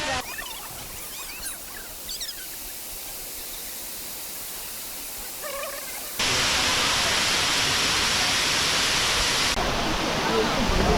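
Jhari Falls near Chikmagalur, water plunging from about 80 feet, gives a constant broadband roar with faint chirps early on, then swells much louder and closer halfway through.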